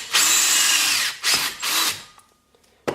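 A power drill fitted with a 6.5 mm bit enlarges a hole in plastic, two loud whirring bursts close by, then a brief pause and a short final rev.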